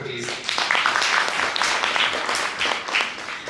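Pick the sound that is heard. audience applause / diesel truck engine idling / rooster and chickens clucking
audience applause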